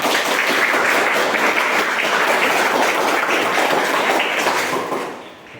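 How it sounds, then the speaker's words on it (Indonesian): A classroom full of children clapping in sustained applause, dense and steady, fading out at the very end. "Berikan tepuk tangan anak-anak."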